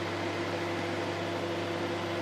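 Steady drone of a running microwave oven heating a glass for Irish coffee, a constant mid-pitched hum with a fan whoosh, close and continuous with no talk.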